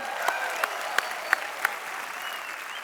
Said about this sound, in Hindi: एक बार फिर से तालियां बनती हैं।